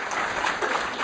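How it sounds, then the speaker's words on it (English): A conference audience at LinuxFest breaks into a short burst of applause, a thick wash of clapping from a full room lasting about a second. "Round of applause for LinuxFest."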